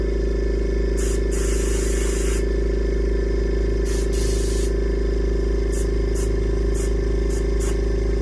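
An airbrush sprays paint in short hissing bursts onto a reproduction warmouth fish, with several quick puffs over a loud, constant compressor hum.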